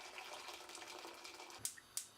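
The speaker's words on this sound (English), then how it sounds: "Add hot water into a saucepan." Quiet hot water pouring into a saucepan, a soft continuous splash, ending with a couple of sharp metallic clinks.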